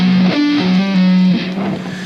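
Palm-muted electric guitar playing a short solo phrase, distorted and loud, with a few sustained notes shifting in pitch over about two seconds.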